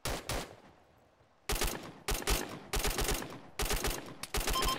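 Automatic and rapid gunfire in the military shooter game ARMA 3, delivered in sharp clustered bursts after a short lull, loud and close with dense repeated cracks and no speech.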